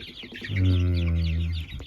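Chickens alongside day-old chicks on a small farm: a single sustained, fairly loud hen call lasting about a second, with faint high chick peeping around it.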